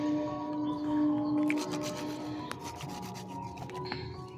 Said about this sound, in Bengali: শসা আম সব ঘষে নিলাম